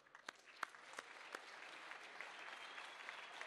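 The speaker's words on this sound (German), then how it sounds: "das ist euer Applaus" Quiet, distant applause from the floor of a party candidate-list nomination assembly for the 2013 Bundestag election in Berlin, a few sharp early claps swelling into steady, even clapping.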